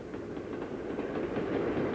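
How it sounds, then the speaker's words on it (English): A model train runs on layout track through mountainous scenery. It makes a continuous, even rumble with a light rhythmic clatter at moderate loudness, and no voices are heard. "the trains pass through the mountainous scenery with its peaks and valleys"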